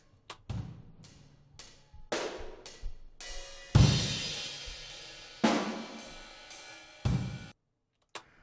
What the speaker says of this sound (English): I put a mic way up in the balcony to get a really big room sound on it